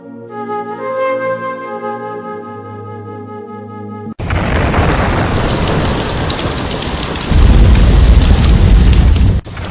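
Heavy rain and a thunderstorm at night in a Pakistani TV drama: dense, loud downpour hiss starts abruptly after soft music, with a deep thunder rumble building underneath near the end.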